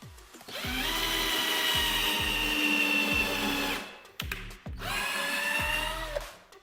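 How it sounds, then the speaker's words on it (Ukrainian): A cordless screwdriver whirs steadily as it drives a screw into a wooden block, with a loud sustained motor whine, a brief stop and ratcheting clicks, then a second run that winds down. "Бачите, шуруповерт спокійно працює, тобто він навіть не перенапрягався."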